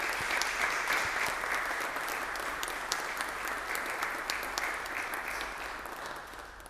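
A large audience bursts into strong, sustained applause, a dense, steady wash of clapping at an event in Tierra del Fuego that holds evenly for several seconds with no talk over it.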